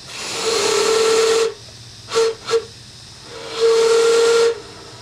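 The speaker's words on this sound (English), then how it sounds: "always remember to blow the whistle" A steam locomotive whistle sounds a long hissing blast, then two short toots, then another long blast, loud and close with no talk.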